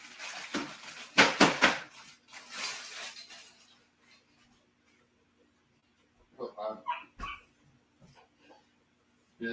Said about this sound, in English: that's a dog crying and whining because you got to take that stuff to him